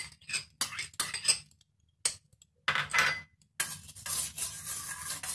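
Lemon juice being stirred into melted sugar syrup for Indian shikanji lemonade, giving a series of soft scraping and clinking bursts from a spoon against the vessel, close and fairly loud, with brief pauses between strokes and no talking.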